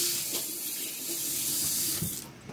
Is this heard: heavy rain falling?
no